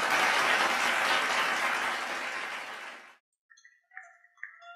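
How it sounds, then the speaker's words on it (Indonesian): Dense audience applause at a wayang puppet cinema show, loud and sustained for about three seconds before stopping abruptly, followed by a few faint tonal blips. "Kasih tepuk tangan, teman-teman."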